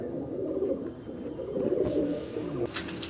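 A nearby pigeon gives a steady run of soft, throaty coos, with a brief higher rustle near the end.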